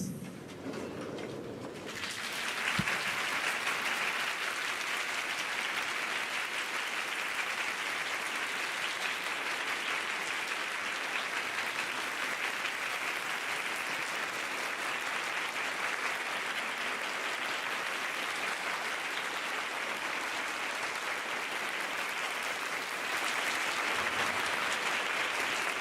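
A hall audience at the Williams Cup gives a long, standing round of applause to returning judges, dense continuous clapping that stays loud and even for about twenty-five seconds.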